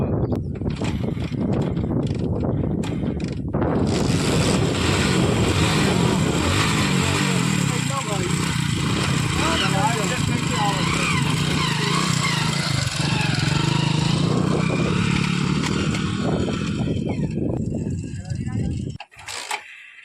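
A repaired motorcycle engine idling steadily and loudly up close for most of the stretch, a continuous putter that cuts out near the end, with voices talking over it.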